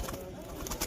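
A pigeon coos softly at a busy pigeon market, a short low burble set against a steady background murmur of the crowd.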